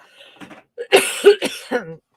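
A few harsh, close coughs in quick succession, raspy and throaty, with a short breathy clearing before them.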